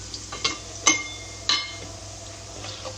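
Coriander seeds sauté in a pan over a medium flame while butter chicken is being cooked. A soft, steady sizzle runs throughout, broken by a few sharp clinks of a utensil against the pan.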